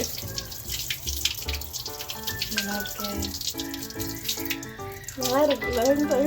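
Water runs from a tap and splashes while chana dal lentils are swished and rinsed in a bowl, then water pours off, with a voice faintly in the background.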